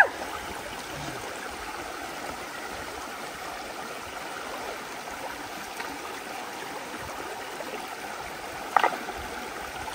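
Water in a creek near a rural village flows steadily and evenly for the whole stretch, with a soft continuous rush and trickle and one brief knock close by near the end.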